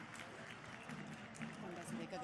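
A crowd at a public event honouring the Chief Minister breaks into steady, fairly distant clapping, with voices murmuring underneath.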